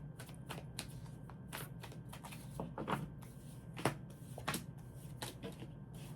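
Tarot cards being shuffled close by, a quick run of crisp riffling slaps and flutters that come in irregular bursts over a quiet room.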